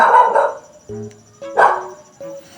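Two loud, close dog barks in a crafting game alternate with brief tonal electronic blips, no voices present.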